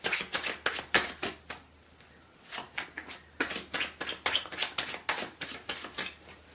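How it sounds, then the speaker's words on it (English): A deck of tarot cards riffled and shuffled in quick bursts of crisp flapping clicks, close up, with a short pause midway before more shuffling. "let me give the clarifying deck a few shuffles"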